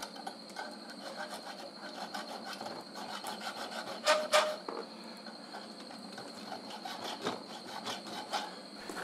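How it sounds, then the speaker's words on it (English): Steady rasping of a hand file scraping back and forth across wood, close and continuous, with a couple of sharper scrapes midway. "I just used the flat file to make the top nice and smooth"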